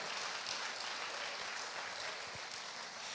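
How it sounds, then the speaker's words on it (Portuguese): Continuous applause from a church congregation, a dense, even wash of clapping at steady, moderate loudness with no pauses. "Se vai aplaudir, aplauda o"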